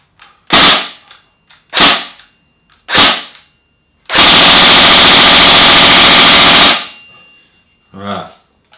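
Tokyo Marui HK416C airsoft rifle fires three short loud bursts, then a sustained full-auto string of about two and a half seconds, followed by a brief mechanical clack; no talking.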